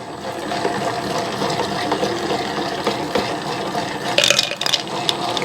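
A dough mixer churns continuously with a wet, rhythmic slapping and whirring, close by, mixing a 72% hydration dough with water and ice, with a few brief sharper clanks near the end.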